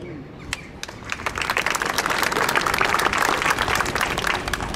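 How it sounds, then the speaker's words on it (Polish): Audience applause fills a town council ceremony marking Wieruszów's 650th anniversary, a dense, steady clapping that swells after the first second and holds loud throughout, with no talk over it. "Także wielkie brawa dla nich."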